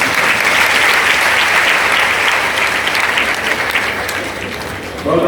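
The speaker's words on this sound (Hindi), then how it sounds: "मेरे लिए नहीं अपने लिए ताली बजाइए।" Loud, sustained applause from a large audience at a devotional satsang gathering, steady clapping throughout that eases slightly toward the end.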